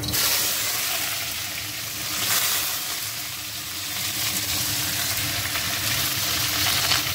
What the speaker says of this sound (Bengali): তেলটা গরম হয়ে গেছে, প্রথমে দিয়ে দেওয়া যাক পেঁয়াজটা